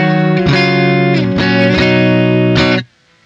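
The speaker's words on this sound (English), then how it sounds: "As I turn it up, we're gonna get more delay introduced into our signal." Electric guitar run through a Hungry Robot Aether modulating delay pedal, sustained chords ringing with echo repeats building beneath them, loud and upfront, then cutting off to silence at the end.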